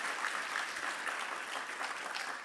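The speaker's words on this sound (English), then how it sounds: "They deserve our applause and our thanks" A school-awards audience applauds steadily and fairly quietly, a continuous dense patter of many hands with no voices over it.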